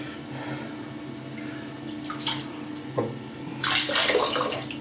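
Water from a Merkur Progress 500 pours and splashes steadily into a basin, growing louder and more gushing toward the end.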